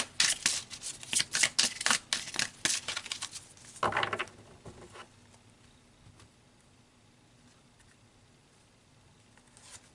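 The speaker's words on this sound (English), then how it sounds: "let's pull some past life cards and see what comes out there specifically" Past life oracle cards being shuffled by hand: a quick run of crisp riffling, flapping card bursts for about five seconds, close and clear, then near quiet with faint handling.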